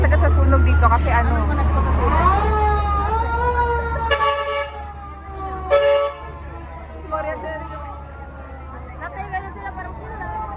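Fire engine sirens wail with rising and falling tones at a fire scene, mixed with horn toots and traffic, while people talk nearby.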